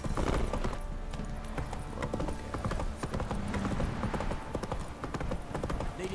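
Hooves of Roach, a horse in The Witcher 3: Wild Hunt, clip-clop in a steady galloping rhythm throughout, close and fairly loud over ambient game sound.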